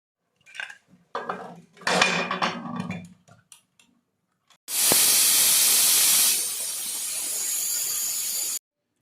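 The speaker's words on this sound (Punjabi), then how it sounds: "ਹੁਣ ਲਾਵਾਂਗੇ ਕੁੱਕਰ ਦਾ ਢੱਕਣ ਢੱਕਣ ਲਾ ਕੇ ਦੋ ਸਿਟੀਆਂ ਵਜਾਵਾਂਗੇ" A pressure cooker cooking aloo matar sends out a loud, sustained hiss of escaping steam that starts abruptly, then settles to a steady rush. Clattering lid and pot sounds come before it.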